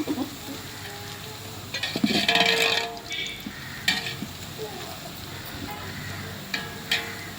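Onions fry in hot oil for chicken biryani, a soft sizzle with intermittent stirring scrapes and clatters, fairly quiet, with brief bursts of louder frying noise.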